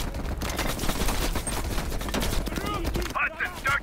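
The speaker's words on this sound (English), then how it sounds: "Heavy MG on the ridge." Sustained heavy machine-gun fire in a war video game battle, a loud continuous rattle of rapid shots with a voice heard near the end.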